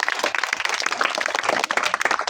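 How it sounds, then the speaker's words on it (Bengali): A small audience gives a brief burst of applause for the chairman and founder at a stage magic show, quick scattered clapping lasting a couple of seconds. "চেয়ারম্যান প্রতিষ্ঠাতার জন্য একটা হাততালি হয়ে যায়"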